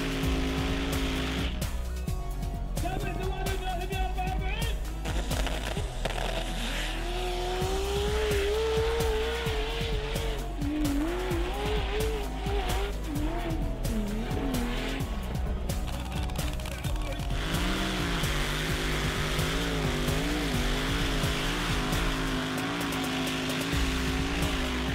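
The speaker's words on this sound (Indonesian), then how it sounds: "Pada malam hari kita bisa menyaksikan balapan menaiki bukit" Cars racing up sand dunes at night in Liwa, engines roaring and revving continuously with rising and falling pitch and occasional tire squeals, loud and close throughout, with musical or crowd-like tones layered over the engine noise.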